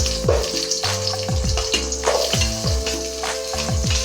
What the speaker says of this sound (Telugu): ఇప్పుడు మనం కట్ చేసి పెట్టుకున్న ఉల్లిపాయలు వేసుకుందాం.